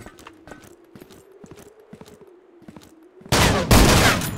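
Gunfire in the survival shooter game ZERO Sievert: scattered sharp shots with a steady tonal hum beneath, then a loud burst of rapid automatic fire near the end, no voices.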